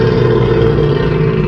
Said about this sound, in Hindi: क्योंकि ये एक क्रोकोडाइल की आवाज थी जो आपको कभी भी कच्चा चबा सकता है